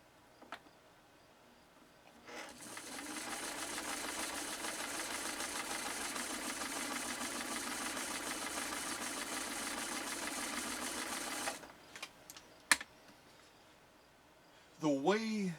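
A 1972 Kenmore 1318 sewing machine stitching two layers of light 100% cotton runs in one steady, continuous whir for about nine seconds, close and loud, then stops, followed by a few small clicks.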